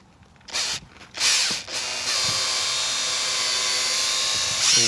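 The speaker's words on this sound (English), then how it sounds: "Take your drill and your polishing pad." A power drill fitted with a polishing pad buffs a 1998 Buick LeSabre, whirring steadily for several seconds after a few brief starts, a continuous high mechanical hum close to the listener.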